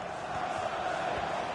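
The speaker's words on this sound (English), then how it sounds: "Well, just listen to the crowd. They want a bit more." A stadium crowd in a football video game roars in a continuous, moderately loud wash, pressing for an equaliser late in the match.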